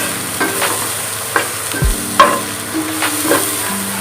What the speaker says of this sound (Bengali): বেগুনটাও হালকাভাবে নাড়বো